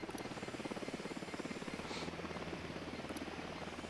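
A helicopter flies in the Ghost Recon Wildlands video game, its steady rhythmic rotor chop faint and distant, holding evenly throughout with no one talking over it.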